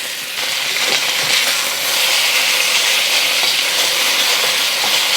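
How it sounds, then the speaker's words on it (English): Beef sears in hot vegetable oil in a pan for a honey beef dish, giving a loud, steady, crackling sizzle that jumps up after a brief quieter start and holds constant, close by, with no talk. "I'm just going to let it sear for about a minute on one side before flipping it over."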